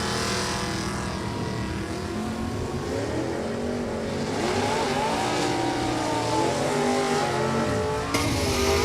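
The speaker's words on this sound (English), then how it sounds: "Monza coming up here right now in the New Hampshire Lottery Lane, taking on John Dolan's, the Malibu out of Billerica" Chevrolet Monza and Malibu drag race cars running at a New England dragstrip, loud roaring engines revving and accelerating continuously at a distance, with a steady broad rumble throughout.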